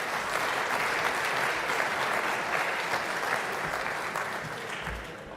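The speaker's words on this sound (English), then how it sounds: "Feel free to applaud to cover the awkwardness." Audience at an energy cooperation meeting applauding steadily, a dense, even wash of many hands clapping at moderate distance that fades slightly toward the end, with no talk over it.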